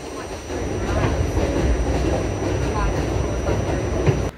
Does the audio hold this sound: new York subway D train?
yes